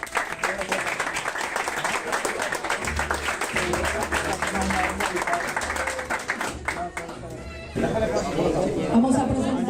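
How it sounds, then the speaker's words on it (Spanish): An audience at a football club's season presentation applauds the team with brisk, continuous clapping and crowd chatter, fading as a voice begins speaking near the end. "Venga, fuerte aplauso para ellos."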